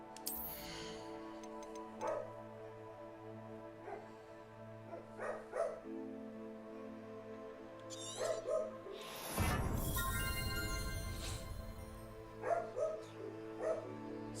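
A pet dog barking in a room during game audio, several sharp barks in short bursts with a cluster of louder, closer barks in the middle, over a steady musical background.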